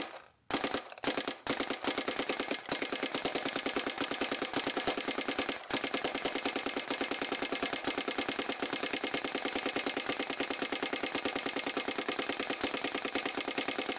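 A Smart Parts Vibe paintball gun fires a rapid string of shots from a full hopper, starting with a few separate pops and then a fast, steady stream of sharp, close cracks lasting over twelve seconds.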